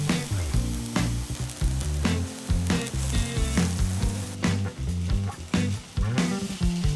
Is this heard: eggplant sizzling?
yes